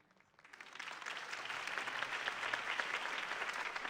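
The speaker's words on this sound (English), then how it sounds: "could have heard that applause" A crowd in the video game Batman: The Telltale Series breaks into steady applause, many hands clapping together, swelling in the first half second and holding loud and even to the end.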